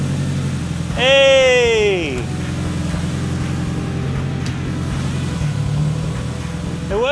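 A front-wheel-drive Mitsubishi Evo fitted with a limited-slip differential pulls away in first gear, its engine humming steadily close by while a voice calls out briefly over it and a rising whine swells and fades.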